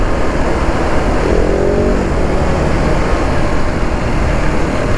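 KTM SMC R 690 single-cylinder motorcycle accelerating in second gear to about 60 km/h, a steady loud engine drone with rising tone and wind rush throughout, no talk.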